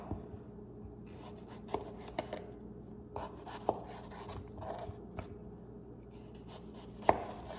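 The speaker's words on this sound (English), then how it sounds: "I'm just gonna cut out the sides, and I'm trying not to cut into those seeds." A knife cuts the sides of a vegetable away from its seeds on a board during ceviche prep, giving scattered soft taps and scrapes with a few sharper clicks, close and quiet with no talk.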